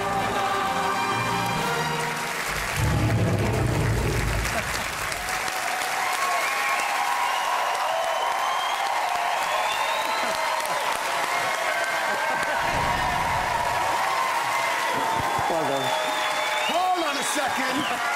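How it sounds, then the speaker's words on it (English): A television talent-show audience gives a contestant a big round of applause, a loud, sustained roar of clapping and cheering in a large venue. Music and voices run through it. "And give him a big round of applause"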